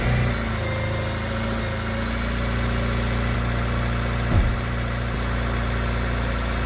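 A 2002 Acura RSX Type S engine idles steadily with a freshly replaced idle air control valve, a close, even mid-pitched hum with a smooth, constant drone and one brief bump partway through.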